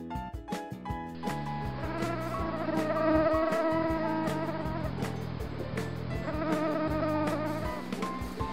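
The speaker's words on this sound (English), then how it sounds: "Mosquito." A mosquito's thin, high whining buzz drones steadily and close up for several seconds, rising and falling slightly in pitch with no talking.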